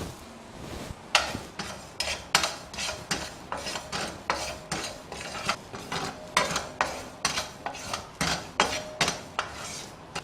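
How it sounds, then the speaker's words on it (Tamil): Cumin seeds roasting in a pan on the stove, stirred with repeated scraping strokes that come in a steady rhythm about twice a second, close and clear, with no talking. "இந்த அடுப்பில் சீரகத்தை போட்டு வறுத்துடலாங்க"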